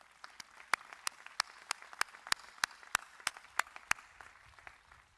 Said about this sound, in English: Let's give them a big round of applause for their work.